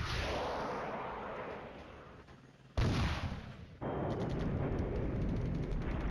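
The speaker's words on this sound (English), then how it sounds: "their artillery is falling on that headquarters" Artillery fire in Flashpoint Campaigns: Red Storm lands as a roaring barrage, with a fresh heavy blast near the three-second mark and another surge of booming rumble after it.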